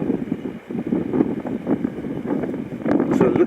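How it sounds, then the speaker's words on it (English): Strong, cold wind gusts steadily against the microphone outdoors on a mountain road descending the Great Dividing Range, a continuous loud rumbling roar with no pauses throughout. "It's very windy and it's cold wind."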